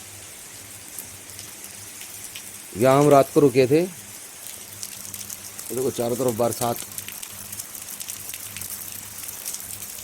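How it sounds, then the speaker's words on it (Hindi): Steady morning rain falling at a forest campsite near Jim Corbett, a continuous soft hiss close around the listener, with people briefly speaking over it. "लेकिन बारिश अभी भी कंटिन्यूस लगी हुई है"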